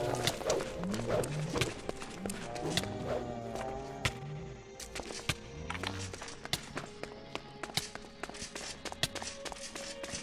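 Charging cows in the video game R.A.D. pound along in a fast, irregular clatter of hoofbeats, moderately loud, mixed with tonal game effects and sharp percussive hits throughout.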